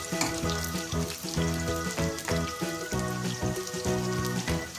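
Chopped onions with green chillies fry in a pan until reddish for an Indian breakfast tiffin, giving a steady sizzle under loud, continuous tonal background music.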